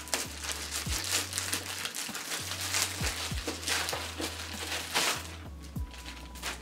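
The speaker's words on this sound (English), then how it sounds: "Opening this package." Plastic packaging crinkling and rustling as it is handled and pulled open, irregular crackles close by.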